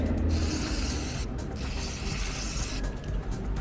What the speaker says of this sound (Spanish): aquí tengo un spray para limpiar frenos, limpio bien